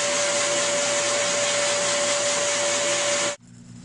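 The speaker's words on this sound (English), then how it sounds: "Now I like to do my finishing with a blow dryer" A blow dryer runs loud and steady while grooming a show bird's feathers, a constant whooshing roar with a fixed motor whine that cuts off sharply near the end, leaving a faint hum.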